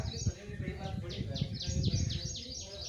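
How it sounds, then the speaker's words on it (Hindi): Birds chirping around a house surrounded by many plants in the morning, with a quick series of repeated bright chirps over steady outdoor ambience and a low background murmur. "काफ़ी प्यारी आवाज़ आ रही है चिड़ियों की"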